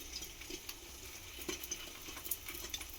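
Egg frying in oil in a pan and being stirred, a soft steady sizzle with faint scraping touches, quiet and close.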